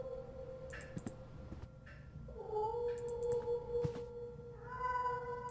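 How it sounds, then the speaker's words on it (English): A cat meows repeatedly in a dark video game, The Last Door, giving several drawn-out, wavering cries in an eerie, quiet scene, with faint clicks between them. "I hear a cat meowing in the distance."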